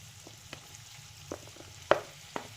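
Onion sautéing in a pan for pav bhaji, a quiet low sizzle broken by a few scattered clinks and scrapes of stirring, one louder knock near the end.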